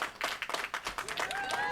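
A short burst of applause plays, with several quick claps and a voice mixed in, then a rising electronic tone at the end.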